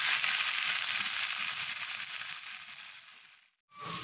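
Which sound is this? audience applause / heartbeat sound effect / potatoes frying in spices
potatoes frying in spices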